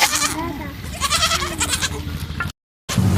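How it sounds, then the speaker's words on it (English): Goat bleating in several wavering, nasal calls with a farmyard background, cutting to a brief silence before a short final bleat. "Goat."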